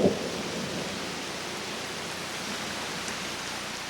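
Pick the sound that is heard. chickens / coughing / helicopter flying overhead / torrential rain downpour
torrential rain downpour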